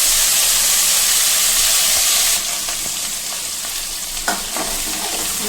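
A teaspoon of cumin seeds sizzles in hot oil with a loud, steady hiss that eases slightly partway through, followed by a single clink of a utensil.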